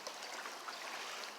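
A little brook trickles and babbles softly and steadily for a moment, faint and close, with no voices.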